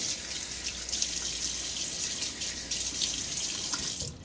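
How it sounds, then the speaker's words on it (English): Cool water runs steadily from a bathroom tap into a sink while someone splashes their face during a wet shave, a close continuous rushing with brief splashy surges. "water on my face"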